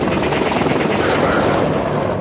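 An AH-64 Apache attack helicopter runs loud and steady as a dense, continuous rotor and turbine roar that stays level throughout, with no other sounds breaking through.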